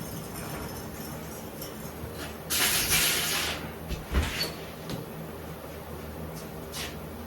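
Short hissing burst of a powder-coating spray gun applying a thin clear coat around the seam of a wheel rim, with a second brief puff amid faint workshop background noise.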